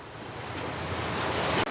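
Large ocean waves crash against houses on the shore, a loud continuous roar of surf and wind that swells steadily before cutting off abruptly at the end.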